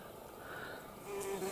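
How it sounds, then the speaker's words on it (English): Bees buzz up close outdoors, a steady, faint droning hum that swells slightly toward the end, with no voices. "Do you know, I get up close to bees here."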